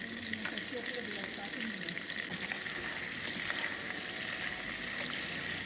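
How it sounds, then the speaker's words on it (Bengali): Crab pieces, including the thin legs, fry together in a pan for a Bengali crab curry, giving a steady loud sizzle with occasional stirring scrapes and no talk. "সবগুলো একসঙ্গে ভালো করে ভেজে নিতে হবে"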